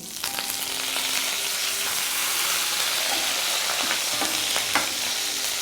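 Fenugreek seeds and curry leaves frying in hot oil for a tempering, with mustard and cumin already in the pan: a steady, close sizzle with a few sharper crackles, no voices.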